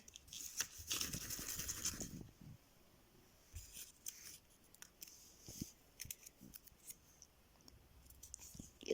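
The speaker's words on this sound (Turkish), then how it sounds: "Hemen şöyle karıştıralım kağıtlarımızı" Small slips of paper being shuffled and mixed together by hand, a dense rustling burst at first, then scattered softer rustles and taps, close and quiet.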